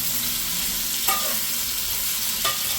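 Bitter gourds fry in hot ghee for a qeema karela dish, making a constant loud sizzle broken by two brief stirring scrapes.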